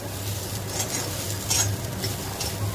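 Fresh grated coconut roasting in a pan gives a soft dry sizzle broken by gentle stirring scrapes, quiet and close, with no one speaking.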